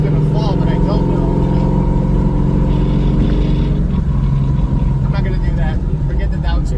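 Coyote-swapped Ford GT500 with a T56 manual gearbox revving high and shifting without the clutch, loud engine droning and rising in pitch with brief breaks between gears, mixed with someone talking.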